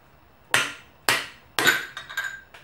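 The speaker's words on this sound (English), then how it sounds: "You're now going to use the fork as a slide hammer to knock out that old oil seal." A Buell XB motorcycle fork slammed as a slide hammer to knock out an old oil seal gives three sharp metallic impacts about half a second apart, then a cluster of lighter clanks, close and loud.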